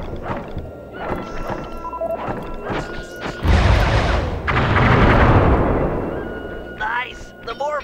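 Fireworks blast in the video game Sly 3, a sequence of sharp pops and cracks building into a long, loud roaring burst of explosions, with brief crackles trailing off near the end.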